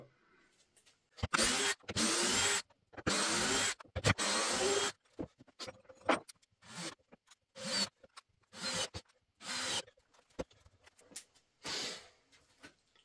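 A Dewalt cordless tool, either a DCD709 drill or a DCF850 impact driver, drives screws in a series of loud whirring bursts, with a few longer runs followed by shorter, choppier ones and brief pauses between them.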